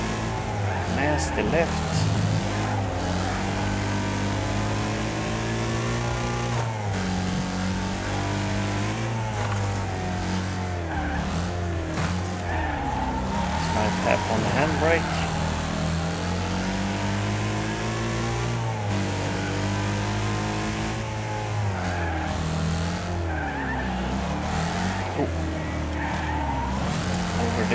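Racing video game car at full throttle, its engine droning and revving continuously with tire skids and squeals through corners, loud and constant while someone talks over it.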